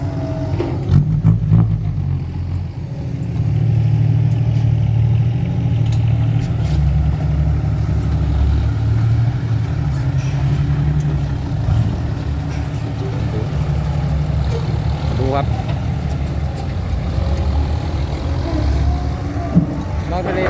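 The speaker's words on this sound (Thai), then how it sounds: "ดูขนาดรถไถยังลื่นอ่ะ" A tractor engine works through deep mud at a festive muddy event after overnight rain. It gives a steady, loud low rumble that surges and strains throughout, with faint voices in the background.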